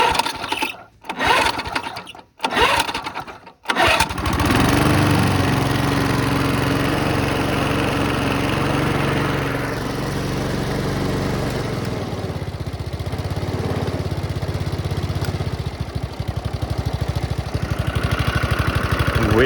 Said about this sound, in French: le moteur il tourne pas trop mal